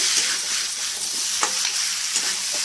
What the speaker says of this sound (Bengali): মাংসটাকে ভাজা ভাজা করে কষে নিতে হবে